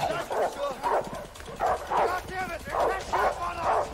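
Dogs bark and yip repeatedly during a foot chase in the video game A Way Out, with rhythmic bursts of barking over a busy mix while players talk.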